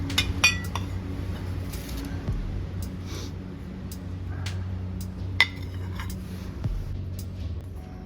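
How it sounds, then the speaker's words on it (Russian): Old Riga porcelain plates chink and clatter in an abandoned seaside hotel, with scattered light clinks and one sharper knock over a steady low hum of the empty building. "И снова мои любимые тарелки."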